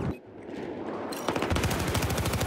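Gunfire rings out in an online shooter video game, with a muffled stretch giving way to a loud, rapid volley of automatic shots.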